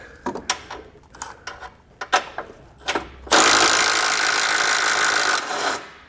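Removing bumper nuts with an 18mm socket on a 2022 Jeep during a tow base plate install: a series of clicks and clanks from the tool, then a loud continuous power-tool whir lasting about two seconds, close up.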